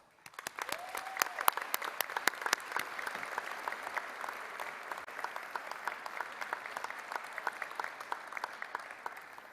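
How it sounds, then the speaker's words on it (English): Audience applause at a senior graduation showcase, a steady, sustained wash of many hands clapping at moderate distance for the full length, with a brief voice near the start. "let's take a couple of seconds to applaud your success."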